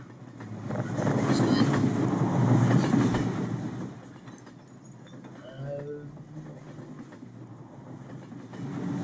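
A train rumbling along in a Roblox game, a low rolling drone that swells and fades with faint clicking rail noise, while voices talk quietly underneath.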